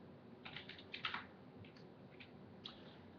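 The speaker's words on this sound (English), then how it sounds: "I don't know why I keep typing." Soft typing on a computer keyboard: scattered clusters of light key clicks with pauses between them, fairly quiet and with no voices.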